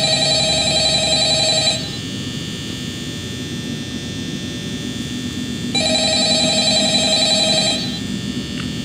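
A phone rings in the Five Nights at Freddy's horror game, with two bursts of electronic ringing separated by a quiet gap over a steady low mechanical drone.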